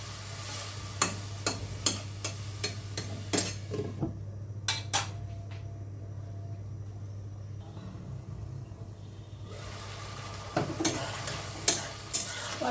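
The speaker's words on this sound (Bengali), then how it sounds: "ডাঁটা, লবণ, হলুদ, মরিচ দিয়ে সুন্দরভাবে একটু ভাজা হয়ে গেছে" Vegetable stems seasoned with salt, turmeric and chili sizzle and fry in a pan while a spoon scrapes and stirs in repeated close clinks and scrapes, with a quieter stretch of steady sizzling in the middle; no one talks.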